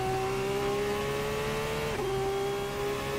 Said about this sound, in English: that's how a bespoke racing car is supposed to sound